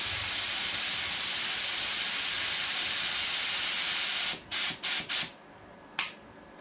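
A spray gun hisses continuously as it lays down clearcoat containing red flakes, a loud steady spray that then breaks into several short bursts and a final brief blast.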